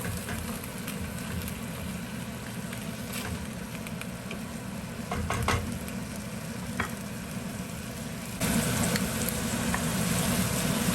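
Onions, ginger and garlic cooking in a pan give a steady close sizzle with occasional scraping stirs, growing louder and busier near the end, with no talk.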